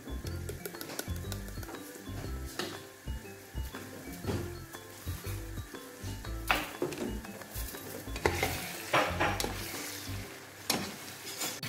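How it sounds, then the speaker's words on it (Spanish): Minced meat fries with sautéed vegetables in a pan, a soft sizzle under frequent scraping and stirring of a utensil against the pan. "hemos puesto la carne para que se vaya rehogando"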